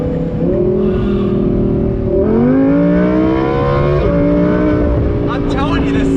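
A 2018 Audi R8 V10 Plus Spyder's engine revs loudly and steadily, its pitch climbing in two distinct surges, with a steady background rumble.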